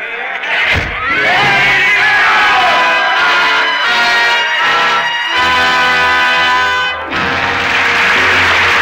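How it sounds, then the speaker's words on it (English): A dense, loud crowd roar swells continuously in a radio drama of A Tale of Two Cities, with music-like tonal layers mixed in and a brief dip near the end. "the roar of the crowd fades into the silence of 150 years ago"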